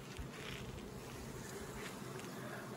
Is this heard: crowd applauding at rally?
no